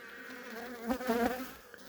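Honey bees buzz thickly around a heavy hive frame as the beekeeper works, a continuous close droning swarm with wingbeat tones swelling louder through the middle, no talking.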